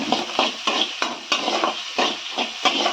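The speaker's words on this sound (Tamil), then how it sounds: "கொஞ்சம் இன்னும் வதக்கிக்கலாம்" Onions and tomatoes sautéing for vengaya thakali chutney, with a steady close sizzle broken by regular stirring scrapes of a spoon against the pan, roughly every half second, and no voices.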